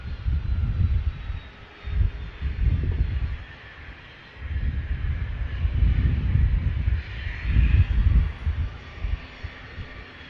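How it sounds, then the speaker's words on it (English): Engines of a Qatar Airways Dreamliner during pushback at Manchester Airport: a low, steady rumble that swells and fades in several waves, moderately loud, with a faint hiss above and no voices. "Matt's got the Qatar Dreamliner on the push as well"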